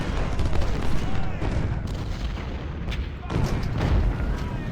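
Gunfire and cannon fire in the Civil War video game Ultimate General: Civil War, at Gettysburg, a dense, continuous rumble of musketry and booming artillery with sharper volleys rising out of it.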